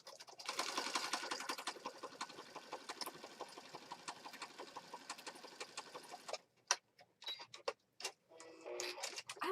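A sewing machine zigzag-stitches a junk journal, its rapid rhythmic clatter running steadily for several seconds, then breaking into short stop-start bursts as the stitching pauses and resumes.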